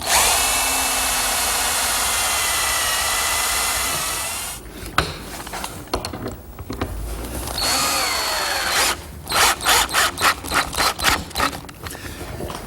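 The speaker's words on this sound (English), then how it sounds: "It's just a butt joint where I align the 2 pieces and drill a pilot hole." A power drill whines steadily, then bites into particle board with grinding bursts and a series of rhythmic spurts as the bit cuts a pilot hole for a butt joint.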